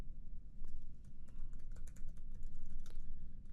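An equation being typed on a computer keyboard: quiet, irregular clusters of key clicks at close range over a low background hum, with no voices.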